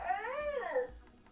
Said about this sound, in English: Sorry, my dog just walked in.